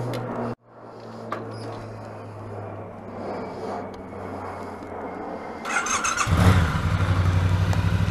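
A Triumph T120 Bonneville motorcycle starts and rides: a short cutoff, a low steady engine hum, then a louder rising rumble as it pulls away near the end.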